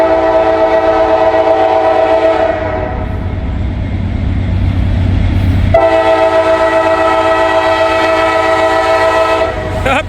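A CSX freight train sounds its horn loudly and close in two long blasts separated by a short pause. The rumble and clatter of the passing railcars continue steadily underneath.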